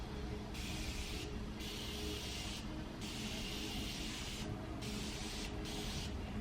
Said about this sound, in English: I'm going to use the Morphe Continuous Setting Spray